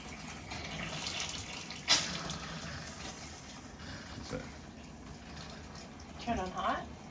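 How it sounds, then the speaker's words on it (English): Water running from a tap in a tiny house, a thin steady hiss under quiet voices, with a couple of brief splashy bumps and a gurgle near the end. "Hopefully we got hot water coming out of there."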